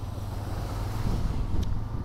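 A 2024 Bajaj Pulsar N125 motorcycle cruising in fifth gear at normal throttle gives a steady, close low engine drone mixed with wind rush, continuous throughout.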